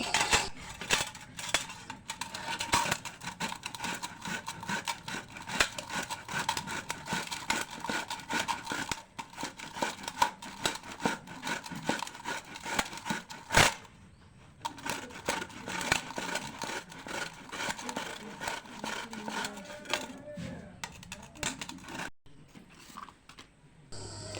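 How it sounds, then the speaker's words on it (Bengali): Peeled raw mango is grated with a scraper in a long run of quick, dense scratching and rasping strokes, close and moderately quiet, with a few brief pauses and no talking. "এবারে আমটাকে একটা কুড়নি দিয়ে ভালো করে কুড়ে নেব"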